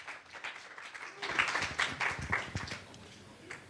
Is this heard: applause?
yes